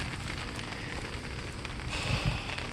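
Steady rain falls on a backyard vegetable garden of potted lettuce and peppers, a continuous close patter across the whole stretch with no voices.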